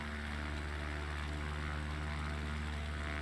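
Steady, continuous drone of a propeller airplane engine at full throttle in a flight simulation game, with strong low harmonic hum and broadband roar holding constant throughout, no voices.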